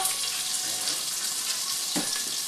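Octopus adobo with onion sizzles steadily in a pan, a dense, even hiss of frying heard up close, with a faint clink near the end.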